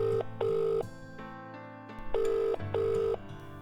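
A telephone rings for an incoming caller on a radio show, two loud electronic double-burst rings separated by a short pause, clear and alone.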